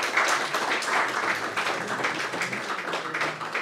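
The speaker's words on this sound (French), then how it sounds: "on peut applaudir." A meetup audience listening to a talk on smart contract security applauds with steady, moderately loud clapping that keeps an even texture throughout the moment, with no voices over it.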